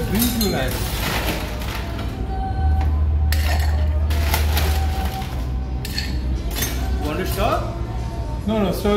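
Metal utensils clink against glass while a Negroni cocktail is stirred, light irregular taps and chinks sounding close under ongoing talk.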